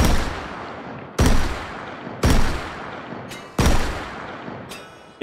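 Pancore Jackhammer shotgun fired in Hot Dogs, Horseshoes and Hand Grenades, four loud close blasts at roughly one-second intervals, each with a decaying echo tail, and no voices.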